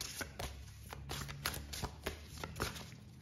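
Tarot cards shuffled by hand in a steady run of crisp riffles and slaps, close and fairly quiet, with no talking.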